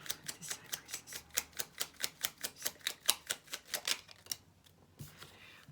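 Tarot cards are shuffled and one is drawn, giving a quick, even series of about twenty crisp taps and flicks, close and fairly quiet, which stop abruptly before a faint rustle.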